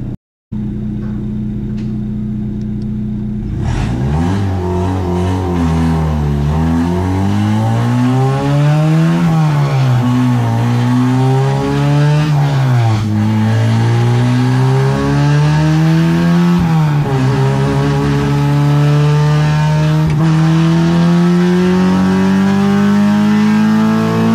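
A Honda K24Z7 engine in an Ariel Atom, tuned on Hondata FlashPro, starts up after a quiet moment and then revs loudly on a dyno, its pitch rising and dipping through several pulls and climbing steadily near the end.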